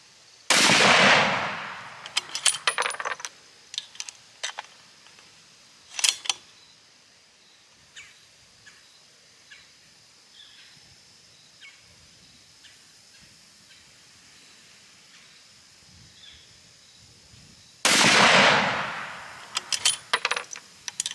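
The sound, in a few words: Colt CBX precision rifle shots fired single-feeding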